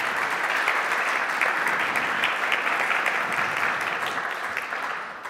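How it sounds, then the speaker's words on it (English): Audience applause at an art and game-design school event as a game director is introduced, continuous, fairly loud crowd clapping that holds steady and fades slightly at the end. "So another round of applause."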